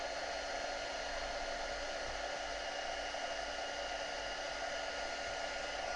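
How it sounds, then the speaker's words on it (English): A heat gun blows steadily while embossing a mixed media craft tag, a continuous loud whooshing hum of hot air that holds unchanged from start to finish with no talk. "just using the heat gun to emboss it"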